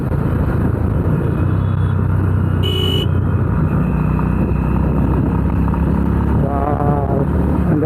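A Honda Highness CB350 motorcycle rides through city traffic, its engine giving a loud, continuous rumble up close. A brief high chirp cuts in midway, and other vehicle sounds join near the end.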